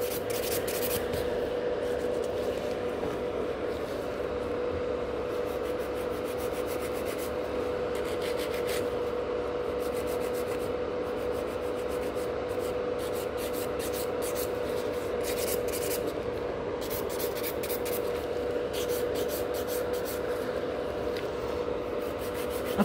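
Buffing fiber gel on lifting salon nails makes a steady, soft rubbing and rasping close up, continuous with faint scratchy flurries over a constant background hum.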